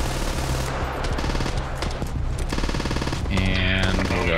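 Rapid machine gun bursts in the Squad 7.0 Invasion mode of the combat video game, a dense loud rattle of fast shots with short breaks and a brief distant boom, without clear talk.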